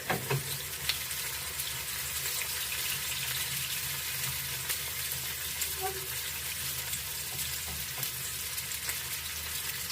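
Onion fries gently in a pan until soft and translucent, a steady close sizzle and crackle running throughout with occasional faint clinks.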